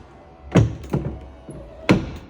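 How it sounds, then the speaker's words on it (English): The electric step at the back of a Nu Venture Rio Micro motorhome moves, giving three close, dull mechanical thunks spaced irregularly over a quiet hum. "bring the step in and out really nicely."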